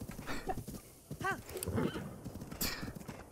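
A horse in The Legend of Zelda: Breath of the Wild whinnies and snorts, with hooves clopping faintly underneath, heard close and moderately loud.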